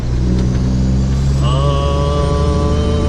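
An oilfield truck hauling a 60-foot trailer revs hard, then its engine note jumps as the driver skip-shifts into a higher gear, a loud continuous drone rising in pitch midway.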